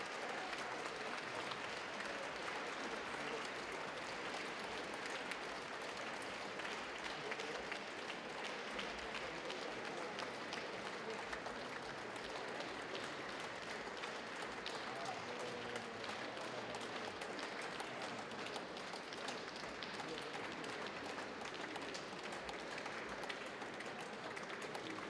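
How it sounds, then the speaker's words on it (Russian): Sustained, dense applause from a concert audience at a choral and ensemble concert commemorating the war years, a steady even wash of clapping lasting throughout with no pauses or voices. "Давайте поддержим коллектив несмолкаемыми аплодисментами."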